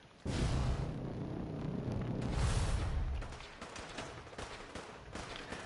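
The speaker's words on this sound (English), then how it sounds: "Are those gunshots in the distance, LOL? They are." Gunfire from the video game Fallout 4, heard as a steady rumbling wash of distant shots and booms that swells and fades over several seconds, with no talking.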